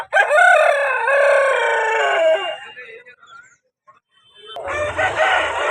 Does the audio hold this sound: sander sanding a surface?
no